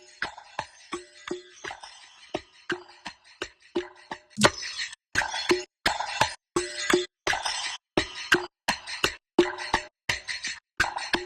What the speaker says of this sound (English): I want to add one of my own percussion loops in here.